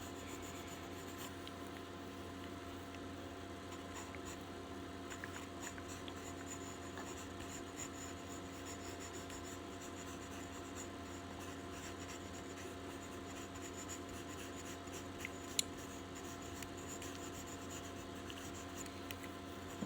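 Pencil scratches quietly on paper during a quick figure sketch, soft continuous strokes with faint rubbing over low steady room hum, no voices.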